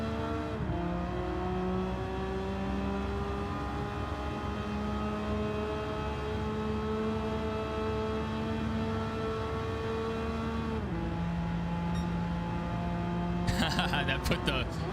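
Ford Thunderbird race car engine in Gran Turismo 7, a steady sustained drone holding pitch for a long stretch, dropping slightly near the end, with a burst of other noise in the final second.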